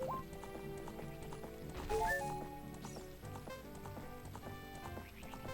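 Steady clip-clop of horse hooves in Zelda: Ocarina of Time over a dense bed of game music, with a brief brighter flourish near the middle.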